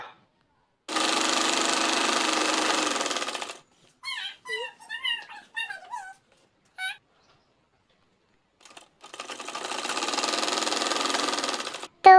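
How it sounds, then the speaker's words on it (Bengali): A sewing machine stitches a folded kameez hem in two long, steady runs, with a stretch of short squeaky bursts between them, heard close and clear. "তারপরে আবারও একটি ভাঁজ দিয়ে এটাকে সেলাই দিয়ে নিতে হবে তো এটাকে আমি এভাবে বরাবর সেলাই দিয়ে নেবো"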